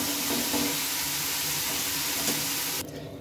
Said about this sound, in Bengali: এবার আমি এই ডালটা দিয়ে নেব। তবে ডালটা দিয়ে আমি ভালোভাবে একটু নেড়ে চেড়ে নেব।